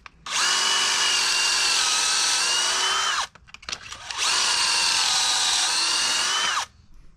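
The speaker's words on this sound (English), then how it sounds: "So we're gonna start pocket hole screwing into here." A power drill drives pocket hole screws into a wooden support for an electrical system platform in a skoolie conversion, running in two loud, steady bursts of about three seconds each with a brief pause between.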